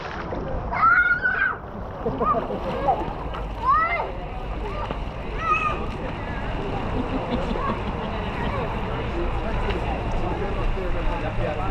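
A four-year-old learning to swim splashes steadily in the Rockfort Mineral Bath in Kingston, Jamaica, under constant water noise, with voices calling out over it, mostly in the first half.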